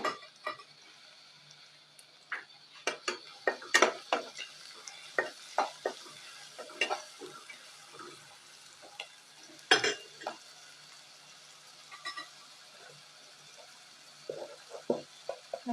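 Ginger garlic paste fries with onions in a pan, giving a quiet sizzle broken by sharp, irregular stirring clicks and scrapes from a close utensil.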